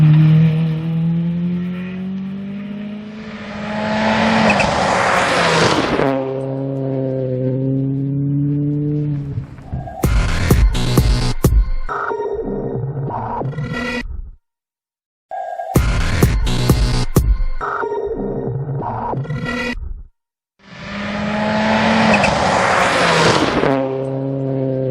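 Rally cars race through a special stage of the Wexford Stages Rally, engines screaming up through the gears as they approach and pass close by, with sharp gear changes and brief silent gaps between runs.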